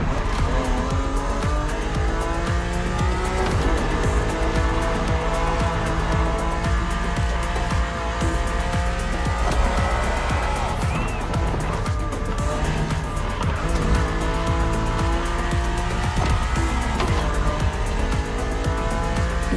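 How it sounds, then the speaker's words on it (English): A BMW Z4 E89 coupe cabriolet driven in The Crew racing game, its engine revving up and down through gears with repeated tire squeals and skids, loud and continuous over a steady engine drone. "Your car is the Z4"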